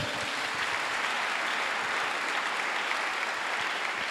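A church congregation applauds steadily, a dense, continuous wash of many hands clapping that holds at an even, loud level throughout.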